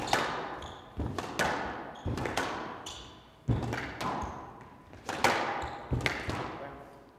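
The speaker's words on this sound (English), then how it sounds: "Well, she's put the ball in the tin." A squash ball is struck in a fast rally during a women's professional match at the 2016 Windy City Open, with about eight sharp, echoing thuds and smacks at irregular, quick intervals in a reverberant court.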